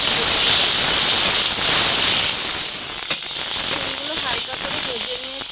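Green beans frying in hot oil in a kadai, a loud steady sizzle and hiss that eases slightly midway, with occasional clicks and a voice talking over it toward the end.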